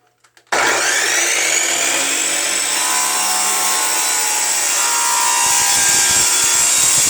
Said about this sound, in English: we're going to flip it around and finish the cut